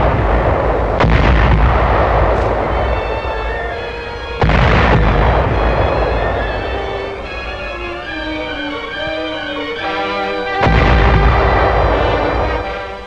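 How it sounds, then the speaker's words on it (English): Naval guns fire in a 1943 newsreel as ships cover a practice landing: several deep, loud booms strike at intervals, each followed by a rumbling decay, with an old film's musical score running underneath. "The maneuvers are covered by the guns of a still powerful navy"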